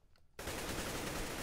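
Gunfire in the video game CS:GO: after a brief near-silence, a loud, continuous rapid-fire burst erupts and holds steady to the end.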